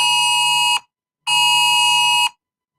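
A snow alert alarm tone sounds as two long, loud, steady buzzing beeps separated by a short silence, with no talking.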